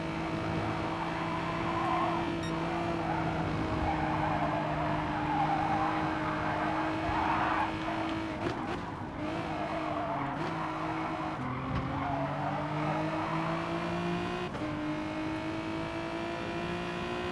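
Racing cars in a video game, including a GTR, make a steady engine roar with shifting pitch and repeated tire squeals and skids, moderately loud and continuous with no talk.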